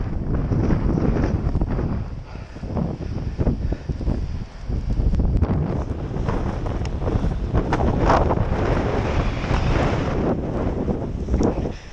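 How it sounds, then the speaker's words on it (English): Strong, steady east wind pounds through a Connecticut winter storm with icy, wind-driven snow, a constant loud roar and buffeting across the microphone throughout, with no voices. "A wind blowing just steady from the east, and it is just pounding."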